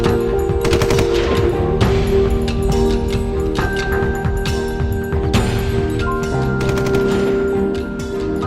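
Sustained machine gun fire in a battle near bunkers, dense rapid bursts going on without pause over several seconds, loud and close.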